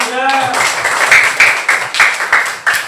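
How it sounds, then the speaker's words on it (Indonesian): Schoolchildren in an Indonesian classroom clap together for a classmate, a quick run of close, sharp handclaps in an uneven rhythm, starting right after a brief voice. "tepuk tangan untuk Andra"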